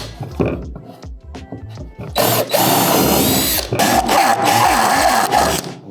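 A power drill whines loudly in two long bursts, cutting countersinks and driving screws into a fiberglass sled's new bottom plate, after someone speaks Finnish at close range.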